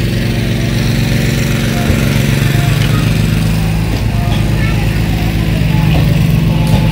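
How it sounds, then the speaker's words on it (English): Borehole drilling rig running outdoors in Kunkujang Keitaya, The Gambia, a loud steady engine drone with a pulsing low rumble that continues without a break, close to the microphone. "There's a borehole drilling going on there."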